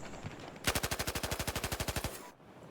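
A rapid automatic weapon burst in Battlefield 4, roughly twenty evenly spaced loud shots over about a second and a half, close and sharp, then stopping abruptly.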